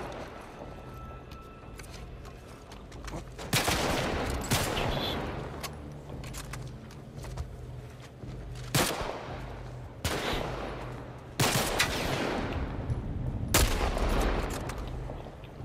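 Gunfire in The Last of Us Part 1 rings out in several loud bursts, single sharp shots and rapid volleys with pauses between, over a steady background rumble, no talk.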